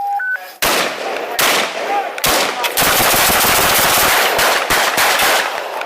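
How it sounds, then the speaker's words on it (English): Multiple gunshots fired in rapid succession outdoors, loud, sharp cracks that merge into a dense volley, preceded by a couple of brief electronic beeps. "As you could hear, multiple shots were fired."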